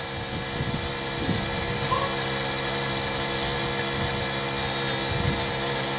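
A Rover 75 CDT diesel engine runs at a steady idle, giving a continuous even hum with a high whine and a faint low throb. It sounds close and holds a constant loudness throughout.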